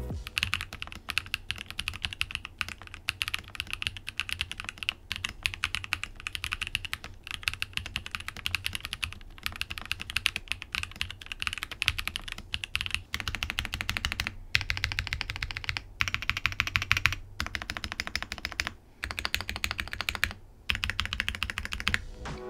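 Continuous rapid typing on a Sandglass 70 ergonomic keyboard with long pole linear switches and a skeleton plate, producing a steady, fairly flat and thin clatter of keystrokes throughout with brief pauses near the end.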